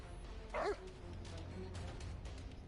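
A dog barks once in the South Park 2 video game on PS4, a short sharp yap near the start, set against a steady low game rumble and background sound with nothing else prominent.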